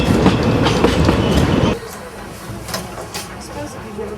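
Train running on rails with a steady, close rumbling roar that drops suddenly to a quieter rattling ride partway through, with faint clicks over the tracks.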